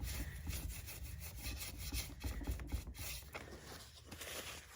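Aging fusing wax rubbed by hand onto a thrifted home decor piece: steady, close scrubbing strokes with a rough, wood-like rasp, continuing without pause and with no voices.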